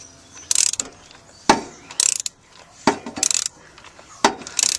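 A hand ratchet works the serpentine belt tensioner on a Jeep Wrangler YJ with a 4.0-liter engine, making repeated bursts of crisp clicking strokes separated by sharp knocks and brief pauses, close and clear.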